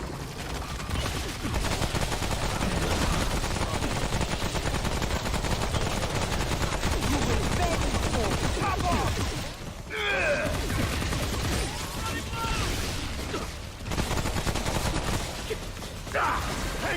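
Automated turrets in the game Generation Zero fire continuous rapid bursts at attacking machines, a dense, steady rattle of gunfire under scattered mechanical clanks and gasps, fairly loud throughout.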